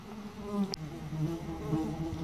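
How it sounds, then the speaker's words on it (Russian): Flies buzz steadily around a forest clearing during a mushroom-hunting outing, a close, continuous whining drone with one insect swooping loudly past the microphone. "Мухи летают, ой, донимают, прям в кадр попадают. Вы, наверное, их видите, жужжание слышите."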